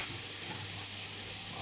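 Apples dropped into caramelizing caramel in a pan give a steady, dense hiss of sizzling, close and even throughout the short stretch, with no talk.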